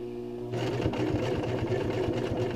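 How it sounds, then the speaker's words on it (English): Sewing machine back stitching a fabric face mask: a quiet moment, then the motor starts and runs with a fast, even needle chatter, close and steady. "do the back stitching to keep everything nice and secure"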